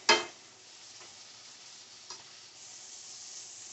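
Onions cooking in a skillet, a quiet, even sizzle that opens with a brief loud clatter and has one more small knock midway, close but faint, with no talking.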